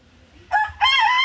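A rooster crows at a village home, loud and close, in two strained bursts: a short opening note, then a longer drawn-out call.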